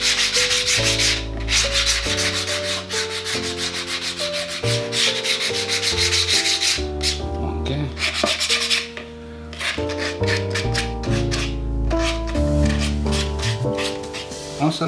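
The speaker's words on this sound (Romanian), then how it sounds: "Cu un șmirghel o să șlefuiesc" Sandpaper worked by hand over the filler on a custom leather knife sheath, giving steady repeated rasping strokes under loud background music.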